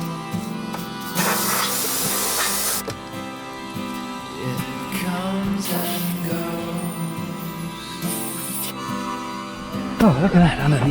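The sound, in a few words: spraying water under car to wash out seeds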